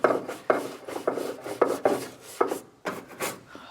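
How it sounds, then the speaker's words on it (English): A medium bristle brush scrubs debris in a Volkswagen GTI engine bay, with about a dozen rhythmic, close, rasping strokes in quick succession and no voices. "then we will go in with our medium bristle brush and try and remove the debris"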